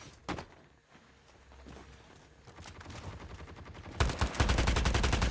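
Gunfire in the mobile shooter Call of Duty: Mobile, a few sparse shots early on, then a dense rapid automatic burst for the last second or so.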